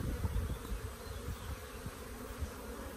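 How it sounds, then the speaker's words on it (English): Honeybees buzz in a dense, continuous hum from an opened hive colony worked with smoke, the drone steady and close. "I do use smoke just to get the bees off the top frames, you know?"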